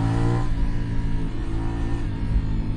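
A CFMoto 450NK big bike engine revs and pulls away under acceleration, a steady loud droning roar with a brief pitch shift midway, close by and with no talk.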